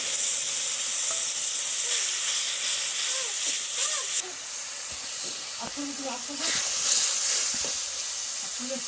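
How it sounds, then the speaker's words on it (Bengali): Cumin, coriander, turmeric and chilli powder sautéing in a pan for a koi fish curry with green banana and okra, a steady hissing sizzle with occasional stirring scrapes, close and continuous. "হলুদ গুঁড়ো, এক চামচ লঙ্কা গুঁড়ো দিয়ে কষিয়ে নেব।"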